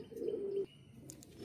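Baby yellow-eyed Malwai pigeon cooing, a short, throaty burst that stops abruptly, then quieter low murmuring with a couple of faint high clicks, close and without talk.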